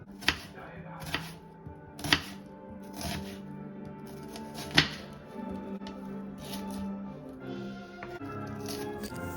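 A knife chopping an onion on a board for a peppercorn sauce, sharp irregular cuts spaced about a second apart, close and crisp over a quiet room.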